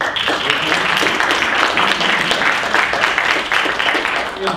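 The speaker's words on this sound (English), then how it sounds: "Another round of applause." A workshop audience claps steadily in a sustained round of applause, dense and even throughout, with no clear voices standing out.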